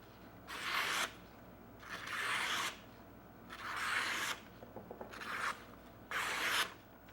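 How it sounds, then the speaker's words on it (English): A stainless san mai hunting knife is drawn across a leather strop mounted on a board, five slow rasping strokes in an even rhythm, close and clear. "It's basically just a board with a piece of leather on it, and it will polish the edge a little bit"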